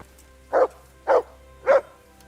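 A dog barks three times in the video game Kingdom Come: Deliverance, evenly spaced, clear and fairly close over a quiet low hum.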